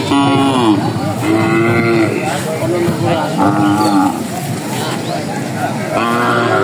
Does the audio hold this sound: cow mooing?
yes